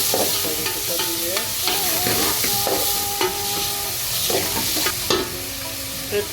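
Onions fry in a hot pan until browned, a steady sizzle broken by repeated scraping stirs of a spatula, close and fairly loud with no talking.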